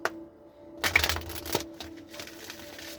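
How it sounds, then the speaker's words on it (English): Tarot cards being shuffled by hand in a few short riffling bursts, a sharp tap at the start, then a louder flurry and scattered softer rustles, close and alone with a faint steady hum beneath. "We're going to give this a few shuffles until it feels right"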